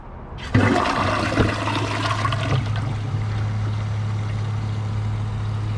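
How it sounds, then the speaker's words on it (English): A 2008 American Standard Champion 4 toilet with a dry bowl is flushed: a sudden loud rush of water that settles into a steady roar and gurgle as the tank refills, close by and with no voices. "Here's a flush with a dry bowl."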